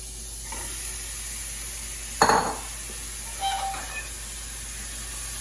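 Ground meat hits a hot pan for picadillo, giving a sharp burst of sizzle that fades into a softer, steady hiss, with a brief scrape of a utensil against the pan a moment later.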